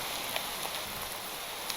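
Steady rainfall in a farming video game, a dense even hiss of rain on surfaces with a few faint drop taps, no talk over it.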